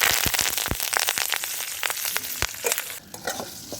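Dried chili, mustard seeds and curry leaves frying in hot oil for an idli potato filling, with a dense steady sizzle broken by sharp popping crackles of bursting seeds, close and loud with no talking.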